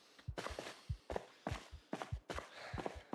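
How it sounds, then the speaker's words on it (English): Heavy rhythmic panting from a player character in the Project Zomboid video game, quick repeated breaths in a steady pattern, fairly faint with no talk over it. "I'm not used to your character breathing like that"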